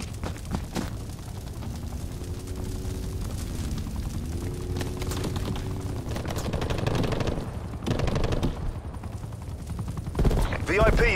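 Sustained automatic gunfire and bursts from the Call of Duty Cold War game fill the clip, loud and continuous, with radio-style voices talking underneath.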